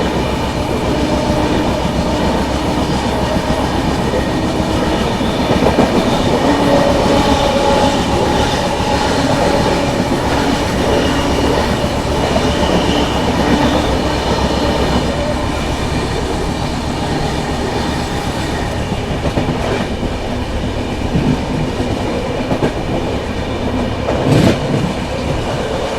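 An Indian Duronto Express train, heard from inside a 3rd AC coach, rumbles steadily along the tracks with continuous rattling and clatter, loud and close throughout, with a faint squeal near the end.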